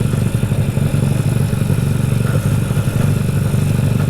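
A Yamaha Vega R 200cc twin-cylinder motorcycle runs close by, a loud, steady, throbbing engine note with a slight clattery edge and no speech.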